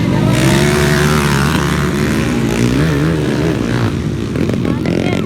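Underbone motorcycles racing at a barangay fiesta moto circuit, engines revving hard and loud together in a continuous buzzing howl with pitch rising and falling as the bikes pass close by.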